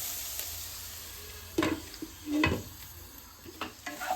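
A spoon stirs semiya upma with vegetables in a pan over low heat, giving a few soft scrapes and knocks against the pan over a faint sizzle, close by and quiet, with no talking.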